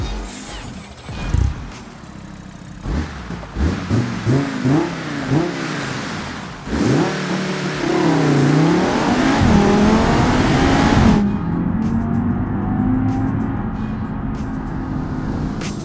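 An Audi 2.5 TFSI inline-five engine in a BeamNG game mod revs in loud, rising and falling surges, then holds a long sustained howl before cutting back to a quieter idle.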